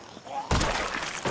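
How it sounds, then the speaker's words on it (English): A single sharp gunshot cracks out in a video game, an abrupt loud burst followed by a brief rattling tail, after a quieter moment with faint talk. "Why did you not react to the gunshot?"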